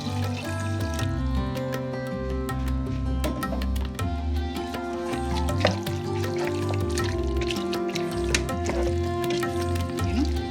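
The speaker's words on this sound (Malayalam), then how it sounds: "ഈ ചിക്കനിലേക്ക് ഞാൻ 1/2 കപ്പ് വെള്ളം ഇപ്പോൾ ഞാൻ ഒഴിച്ച് ഇളക്കി" Water poured into chicken curry in a pot and stirred, a soft liquid pour and wet squishing running steadily alongside a low hum with no talking.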